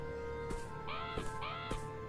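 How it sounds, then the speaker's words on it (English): A bird in the Beyond Eyes video game gives two harsh, crow-like caws about half a second apart, clear and fairly close above a faint steady hum. "Okay, there's another bird here."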